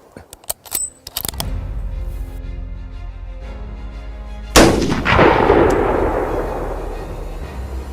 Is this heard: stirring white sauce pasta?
no